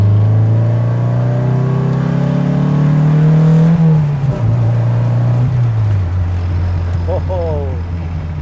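A turbo-swapped 1978 MGB GT drives along with a loud, steady engine drone whose pitch rises and then falls as the car shifts. Occasional voices talk over the engine.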